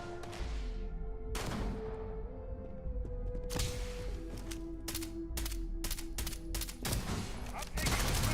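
Rapid gunfire crackles during a video game firefight, with repeated sharp bursts and volleys that continue steadily from start to finish, and a few brief words are spoken underneath.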